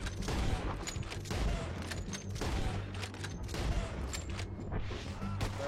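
Rapid gunfire from a shooting game, a fusillade of sharp repeated bursts in irregular clusters, fairly quiet and spread across the whole stretch without speech.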